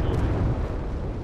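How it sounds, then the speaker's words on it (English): A gigantic explosion in the tank battle game World of Tanks, a loud, dense low rumble that fills the whole moment without a break. "There's that nice, lovely, gigantic explosion I was talking about."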